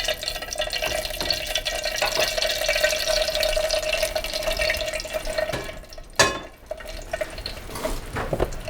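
Grease pouring from a leftover pan into a container: a steady, close trickling liquid flow with a faint tone through most of the clip, ending with a brief clatter and a few splashes.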